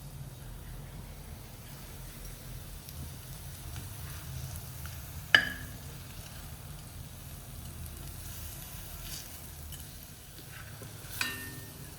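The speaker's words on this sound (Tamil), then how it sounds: "நல்லா கொஞ்சம் பொரிஞ்சு வர அளவுக்கு பெருங்காயத்தை வறுத்துக்கணும்" Asafoetida frying in oil for a homemade idli chilli powder gives off a quiet, steady sizzle, with a couple of faint clinks from the pan.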